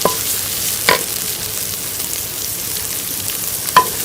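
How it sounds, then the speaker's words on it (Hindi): Onions frying in ghee in a kadai, a steady soft sizzle with two short stirring scrapes, one near the start and one near the end, close and alone without any talk. "अब इसमें हम प्याज डालेंगे और प्याज को जो है वो हम हल्का सा ब्राउन कर लेंगे"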